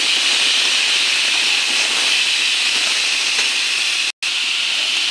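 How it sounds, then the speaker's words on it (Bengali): Chopped vegetables fry in hot oil with a spice tempering, producing a loud, constant hiss that drops out for a split second near the end, with no voices. "এখন কেটে রাখা ধোয়া সবজিগুলি ফোড়নের সঙ্গে ভালো করে মিশে নিই সবজিটা।"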